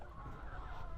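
Pet chickens clucking softly in their coop, a brief low murmur of fowl close by with no talk over it.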